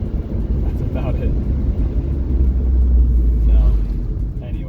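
Turbocharged Ford Focus ST with suspension work driving on a canyon road, giving a steady low engine and road rumble from inside the cabin that swells slightly midway, with faint voices over it.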